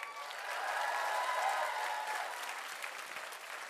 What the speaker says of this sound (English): Can I get a big round of applause for every single cosplay entrant that we've had today